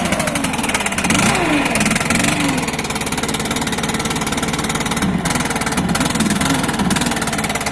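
A Stihl MS 362 chainsaw engine idling as it warms up, a loud, close, continuous two-stroke burble with steady vibration and slight unevenness, no talk over it.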